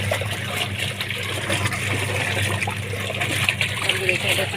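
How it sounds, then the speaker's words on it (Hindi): Water gushing and splashing steadily as it drains from a semi-automatic washing machine, a continuous rushing flow with some background hum. "अब देखें इधर से सबसे पहले पानी निकल रहा है"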